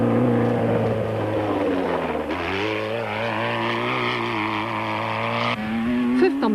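A Raceco single-seater space-frame off-road race car at the Baberspan 1000 passes close by, its loud engine note dropping in pitch, then holding a strong steady drone before shifting up again.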